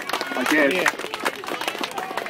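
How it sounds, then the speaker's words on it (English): Audience applause for a contestant at a chilli eating competition in Adelaide, a dense patter of clapping from a crowd mixed with loud cheering voices and someone talking close by. "Give him a round of applause"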